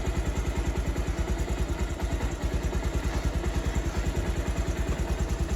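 Small motorcycle engine running at a steady idle after starting, with a rapid, even low putter throughout, loud and close, no talking over it.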